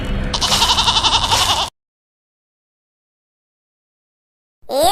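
Goats bleating in a short, loud, wavering run under a dramatic music bed, then a gap of silence before another brief sound at the end.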